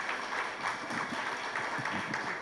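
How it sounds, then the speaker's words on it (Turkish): Audience applauding at a dental implant award ceremony, a steady wash of many hands clapping throughout with no voices. "Önce kendinizi bir alkışlayın istiyorum."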